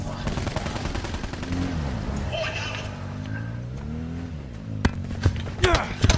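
Gunfire in the video game Black Ops 4 Blackout, several sharp shots near the end over an in-game engine drone, with players talking throughout.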